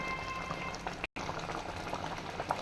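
Half-ripe mango chutney simmering in a pan, a steady close bubbling and gentle popping of thick liquid, with a brief dropout partway through.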